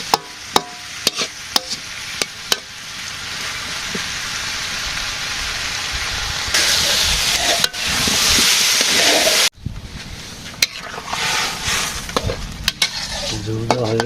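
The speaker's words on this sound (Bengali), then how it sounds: "পেঁয়াজ ভাজি করছি, তারপরে সবজি দিয়ে দিলাম, হলুদের গুঁড়া মরিচের গুঁড়া দিয়ে দেওয়া হয়েছে, কষাবো।" Onions and vegetables fry with turmeric and chili powder in a village kitchen, sizzling loudly while a utensil scrapes and clacks against the pan in repeated stirring strokes, with bursts of stronger hissing.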